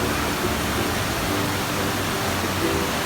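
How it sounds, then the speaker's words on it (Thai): Nam Tok Chet Sao Noi waterfall in Saraburi gives a steady, broadband rushing roar of falling water, constant and even throughout with no voices. "บรรยากาศน้ำตกนะคะ"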